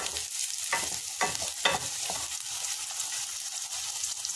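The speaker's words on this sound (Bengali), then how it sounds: "পেঁয়াজটা লাল না হওয়া পর্যন্ত আমরা ভাজতেই থাকব।" Onions fry in oil while being stirred, with a soft steady sizzle and a few scraping stir strokes, close but fairly quiet.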